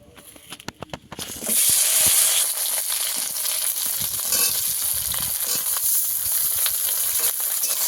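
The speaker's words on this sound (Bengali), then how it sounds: "ঢেঁড়সটাকে ভালো করে ভেজে নেব।" Okra dropped into hot oil in a pan starts a loud, steady sizzle that fills the space close by, preceded by a second of clattering as the pieces go in, with no talking.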